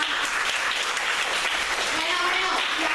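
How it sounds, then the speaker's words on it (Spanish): An audience applauds after a children's storytelling performance. The applause is a steady, dense wash, with a voice or music faintly heard beneath it. "Haciendo un aplauso para ella."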